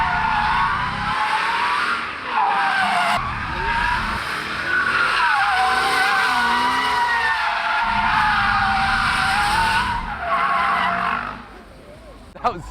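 A car drifts at the Goodwood Festival of Speed, its tires squealing loudly and almost without a break over the engine as it slides around, then the noise cuts off near the end.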